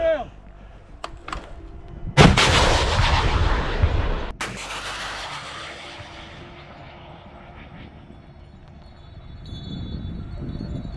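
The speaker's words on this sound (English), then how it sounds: "Выстрел!" Artillery fire near the Kursk region border: a sharp loud blast at about two seconds rolls into a long booming echo, followed by a second crack, then a fading low rumble with faint background noise.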